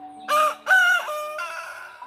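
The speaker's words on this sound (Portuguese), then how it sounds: "Cante, galo. Cante 3 vezes." A rooster crows loudly and close by in one full cock-a-doodle-doo, its rising and falling notes standing alone against near silence.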